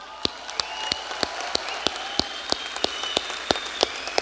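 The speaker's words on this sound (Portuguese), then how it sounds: "Palmas." An audience at a live event claps in a sparse, rhythmic pattern of distinct, evenly spaced sharp claps over a low room murmur, moderately close and fairly quiet.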